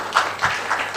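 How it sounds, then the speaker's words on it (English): A short burst of applause from an audience at an event on BISCON TV, with several bright clap swells rising and fading over about a second. "Another round of applause"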